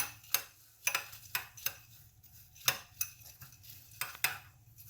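Spiced pieces of food being stirred and tossed in a bowl to coat them, with a series of sharp utensil clinks and scrapes against the bowl at an uneven rhythm, close and fairly quiet, with no talking.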